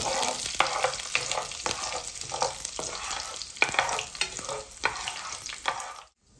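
Garlic and curry leaves frying in a pan for a dried-fish curry, a steady crackling sizzle broken by repeated scrapes and clicks of stirring, loud and close, ending abruptly in silence.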